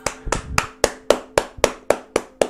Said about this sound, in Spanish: Un aplauso para los creadores.